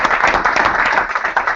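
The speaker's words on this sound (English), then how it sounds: "can we get some claps here?" Conference audience in a room applauding together, a dense, steady wash of many hands clapping throughout the short burst, loud and close with no talk over it.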